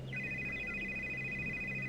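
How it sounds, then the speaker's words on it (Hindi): A telephone rings with a steady electronic tone as a call is placed, a clear, sustained pulse heard alone against a quiet background. "कोकिला अपने खानदानी पंडित जी को फोन लगाती है।"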